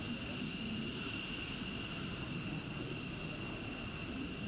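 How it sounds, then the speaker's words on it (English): Military jets take off in formation at RAF Lakenheath, a steady, unbroken roar of engine noise that holds at an even level throughout, with no talking. "might have a formation takeoff here"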